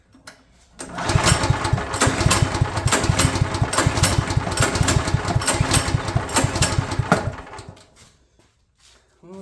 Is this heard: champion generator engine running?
yes